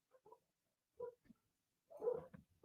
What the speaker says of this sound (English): Can you hear my dogs? My dogs are going crazy.